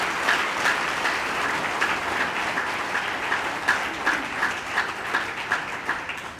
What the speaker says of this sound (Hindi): जोरदार तालियां बजाओ उन सभी के लिए